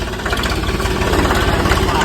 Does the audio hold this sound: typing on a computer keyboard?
no